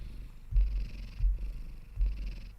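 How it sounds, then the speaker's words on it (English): Domestic cat purring up close, a low rumbling purr in three rhythmic breath cycles, each inhale pulse louder, with a faint hiss between and no talk. "Love the cat ASMR."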